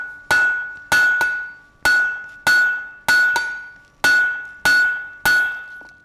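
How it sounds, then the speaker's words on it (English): A 3-pound ball peen hammer forges a taper on steel stock over an anvil with about ten loud, ringing metallic blows. Each blow leaves a bright tone that decays slowly, and some come in quick pairs, with no talk. "bring the hammer down at a slight angle, and pinch that stock"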